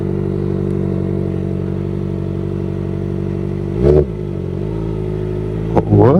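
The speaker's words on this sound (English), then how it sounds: "It was like it wasn't in gear there. It just slipped into first." Motorcycle engine idling with a steady low hum that lurches and jolts twice as it slips into first gear, each jolt bringing a short clunk and rise in engine pitch; close and loud, no talking.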